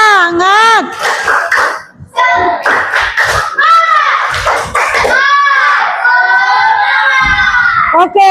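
Classroom of sixth-grade schoolchildren doing a rhythmic spirit clap with loud, close chanting and shouting voices throughout, ending in a short cheer.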